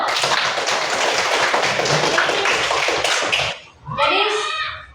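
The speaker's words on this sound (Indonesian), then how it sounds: "tepuk tangan dulu" Students clap together in a classroom, a dense burst of hand claps lasting a few seconds, then a brief pause before children's voices briefly rise.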